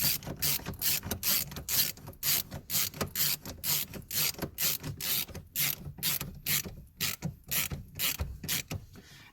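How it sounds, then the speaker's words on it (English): A 3/8-inch hex driver ratchets a bolt tight during a Dodge Charger paddle shifter install, a loud close rapid series of rhythmic clicking strokes with short pauses between bursts. "we're going to use our 3/8" hex driver to put this"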